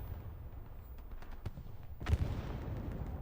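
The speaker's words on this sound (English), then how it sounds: "It's just explosions over and over and over." Battlefield explosions and gunfire from Hell Let Loose on Omaha Beach: scattered distant shots and thuds, then a heavier blast followed by rumbling fire, all fairly faint and far off.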